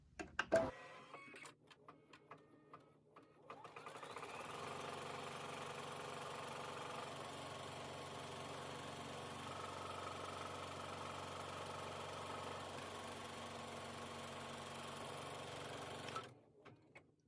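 An embroidery machine stitches a placement stitch, a steady mechanical whir and rapid needle chatter that starts after a few clicks and handling noises, runs evenly for about twelve seconds, then stops abruptly.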